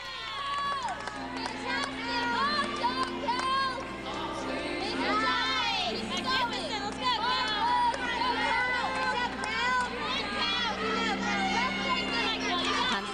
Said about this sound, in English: Very comforting on beam to hear the cheers from your teammates